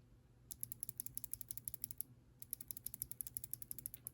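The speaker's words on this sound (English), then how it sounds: "here is an old box switch that I had, which turned clicky" Repeated crisp clicks from an old Kailh BOX mechanical keyboard switch that has turned clicky, pressed again and again in two quick bursts with a short pause between, close and fairly quiet.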